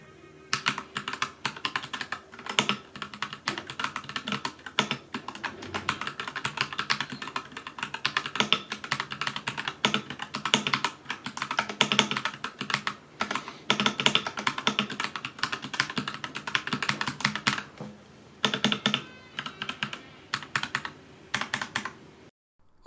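Mechanical typing on a Royal Kludge RK84 75% hot-swappable keyboard with brown switches: a steady, close run of dense keystroke clatter with brief pauses, no talking.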